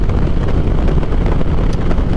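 Steady, heavy wind buffeting roars across the microphone on a motorcycle at highway speed behind a windscreen, a constant low rumbling rush with no pauses.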